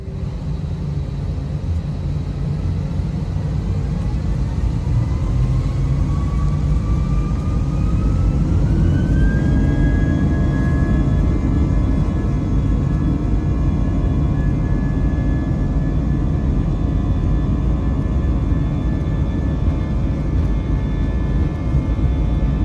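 Spirit Airlines jet airliner on its takeoff roll down a Myrtle Beach runway, a loud steady engine roar heard from inside the cabin, with a rising whine that climbs and then holds as thrust builds.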